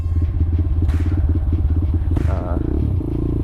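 An ADV Moto 190R motorcycle being ridden on a road: a loud, continuous engine rumble with rough buffeting and a shift in pitch near the end.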